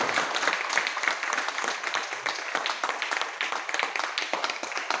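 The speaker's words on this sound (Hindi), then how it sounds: "मैं चाहूंगा उन सभी डॉक्टरों के लिए एक जोरदार ताली बजानी चाहिए।" An audience claps in applause for doctors at a motivational business event, a continuous patter of many hands, moderately loud and unbroken, with no voices on top.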